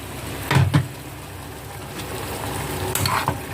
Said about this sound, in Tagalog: Tapos, lagyan natin siya ng soy sauce.